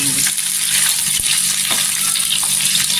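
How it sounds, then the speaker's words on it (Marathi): Eggs frying in hot oil in a pan for a dhaba-style egg masala curry, a steady close sizzle and crackle with faint stirring, alone without talk. "पूर्णपणे 2 ते 3 मिनिटं आहे ना तेलावर अशी परतून घ्यायचं"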